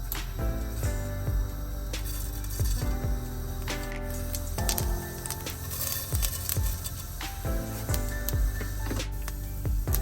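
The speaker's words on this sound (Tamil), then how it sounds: "இப்போ எண்ணெய் சூடாயிட்டுது. கடுகு, பெருஞ்சீரகம், வெந்தயம் சேர்க்க போறேன்." Mustard, fennel and fenugreek seeds drop into hot oil in a pan for Tamil egg curry, crackling and popping in rapid, irregular bursts up close.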